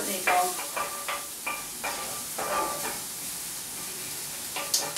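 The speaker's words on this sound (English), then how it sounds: "in with the shallot. And I'm just going to let that cook for a minute or so, let it soften." Chopped shallot sizzling in rendered pancetta fat in a pan for a pea and pancetta risotto, a bright crackling sizzle broken by a series of short stirring scrapes and clinks.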